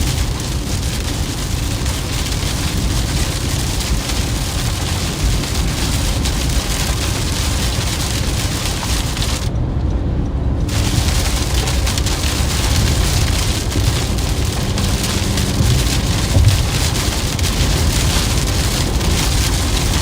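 Heavy rain drums steadily on a car during a storm chase near the Chicago and northwest Indiana area, a loud dense patter with no let-up and a single brief dropout.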